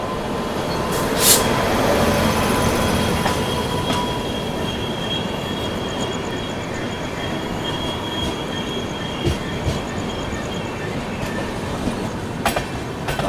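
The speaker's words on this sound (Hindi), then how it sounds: "ये आती हुई सामने से आप लोगों की हज़रत निज़ामुद्दीन सिकंदराबाद की ओर जाने वाली सिकंदराबाद राजधानी" Hazrat Nizamuddin–Secunderabad Rajdhani Express rolls slowly past while switching to the third line, a steady near rumble of wheels with squealing tones and occasional clanks and clicks throughout.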